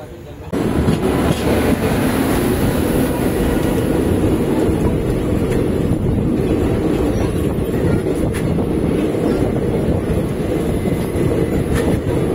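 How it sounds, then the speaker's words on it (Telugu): Bilaspur–Tirupati–Puri Express passenger train running on rail near Gudivada toward Vijayawada, a loud continuous rumble with wheel clatter filling the whole stretch, heard close from inside or beside the carriages. "బిలాస్పూర్ తిరుపతి పూరి ఎక్స్ప్రెస్ అండి. తిరుపతి పూరి ఎక్స్ప్రెస్"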